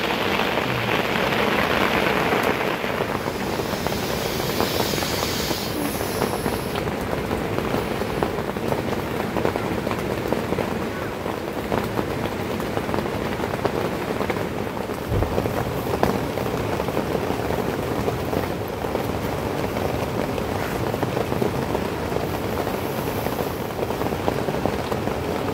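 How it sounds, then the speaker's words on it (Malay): Steady rain falls at the Chor River campsite in Sahom, a dense, even patter on surfaces and canvas that lasts throughout, with a brief louder knock partway through. "Pagi ni hujan."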